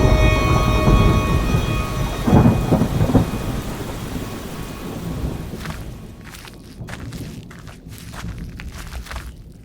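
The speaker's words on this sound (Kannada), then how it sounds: "ಸಮುದ್ರದಲ್ಲಿ ಚಂಡಮಾರುತ ತುಂಬಾ ಜೋರಾಗಿ ಬೀಸ್ತಿದೆ" A thunderstorm with heavy rain at sea, near an island: loud, close rumbling thunder with cracks and booms over a constant rain roar that thins toward the end, where the wind or rain turns gusty.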